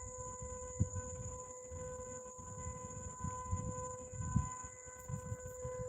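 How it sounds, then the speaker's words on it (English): A loud, steady dam warning siren drones continuously, holding sustained tones, with a rumbling low background and a few thumps beneath it. "some sort of very loud siren alarm is going off"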